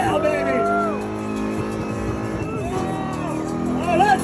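A race car engine revs hard and climbs through the gears, its pitch sweeping up and dropping at each shift, close and loud, with spectators cheering and talking over it.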